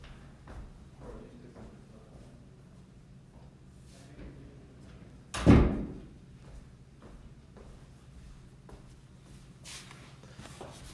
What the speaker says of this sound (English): while I shut the door